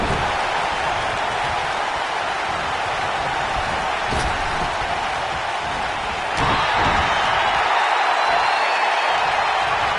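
Roaring wrestling crowd noise in a PS4 wrestling game, a steady dense cheer held throughout with a couple of sharp thuds and a swell in intensity toward the end, loud and continuous.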